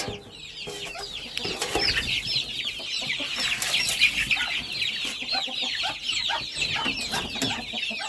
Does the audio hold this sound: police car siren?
no